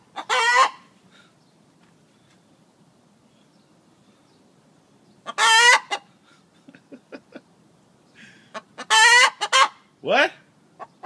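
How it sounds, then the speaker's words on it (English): Egg song from a hen just after laying: loud, rising squawking calls come in three bursts separated by near silence and a few soft clucks, close to the listener. "That's the egg song."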